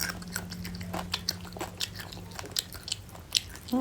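Boiled noodles are chewed and bitten close up, with soft wet crunches and bites arriving in an irregular rhythm over a quiet background.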